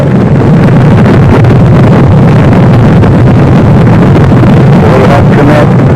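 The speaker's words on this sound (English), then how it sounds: "We have liftoff at 7:51 a.m. Eastern Standard Time" Rocket engines roaring at liftoff, a continuous loud, saturated low rumble with broadband hiss that stays steady and overpowering throughout, with faint voices under it.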